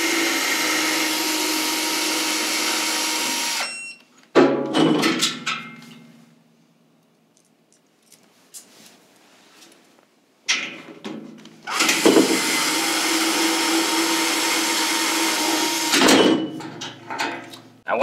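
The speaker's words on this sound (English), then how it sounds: "2 more bolts, one here and one on the other side, that we're going to also remove with the same 13mm socket" A 13mm socket on a power driver removes bolts from the frame of a Weil-McLain SlimFit boiler: long loud whirring runs with quieter clanks and fiddling between them, close by.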